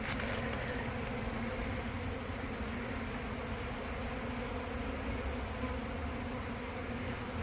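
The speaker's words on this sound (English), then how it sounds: "there were a lot of bees back in that area" Honeybees hum in a dense, continuous buzz around the cut-out section of a shed floor, a soft steady swarm with faint ticking in the background.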